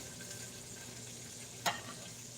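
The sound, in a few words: tomato sizzling in a frying pan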